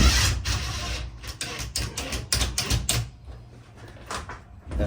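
A small plasterboard patch is tapped into place on a damaged wall: a series of sharp, close knocks, irregular and partly clustered, over faint room noise with no speech.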